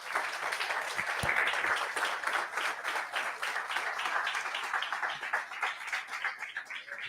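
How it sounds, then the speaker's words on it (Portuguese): A church congregation applauds together, a dense, steady wash of many hands clapping that carries on for several seconds with little else over it. "Dê um aplauso a Jesus aí."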